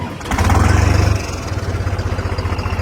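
John Deere tractor engine idling with a steady low pulsing throb, loud and close, rising briefly then settling into a regular chugging rhythm.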